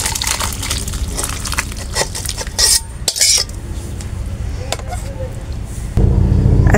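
Fish and eggplant curry poured from one pot into another, with metal spoon scrapes and dish clinks ringing loudly and close in a steady busy clatter, ending in a louder rumbling rush.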